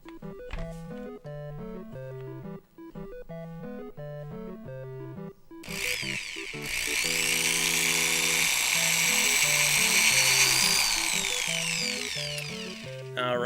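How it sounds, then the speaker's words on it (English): Power drill boring through a hard vinyl Madballs figure, a loud steady whine with a broadband roar building from about six seconds on, after a stretch dominated by tonal music. "this vinyl actually is very difficult to drill through"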